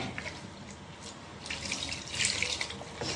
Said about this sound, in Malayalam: ഇച്ചിരി വെള്ളം കൂടെ ഒഴിക്കണേ.